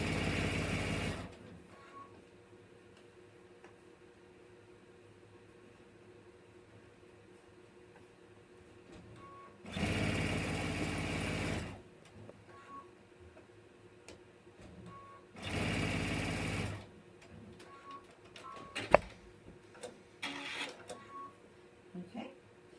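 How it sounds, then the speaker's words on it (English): A sewing machine stitches in the ditch alongside piping cord, running in three distinct bursts of a few seconds each with quiet pauses between, followed by small handling clicks and a sharp tap near the end. "I'm just going to stitch right in that ditch, and I'm hugging that cord tightly."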